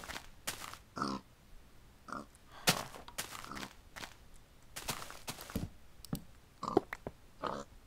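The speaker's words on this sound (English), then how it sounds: "Look at all these pigs." Pigs grunt in a Minecraft game, with short scattered grunts and snorts popping up irregularly over a quiet background, some close and some fainter, without talk.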